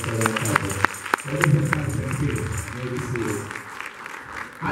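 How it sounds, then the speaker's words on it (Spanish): A church congregation applauds a couple during a sermon, with dense crowd clapping and a few sharp individual claps close by, sustained for several seconds under murmuring voices. "Démele un aplauso a esa pareja."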